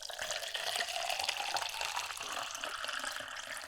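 Water poured into a plastic Shakespeare's cup, a soft, continuous trickling splash up close and fairly quiet, lasting a few seconds with no talking.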